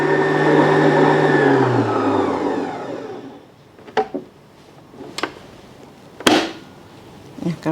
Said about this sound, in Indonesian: ini kita matikan mixernya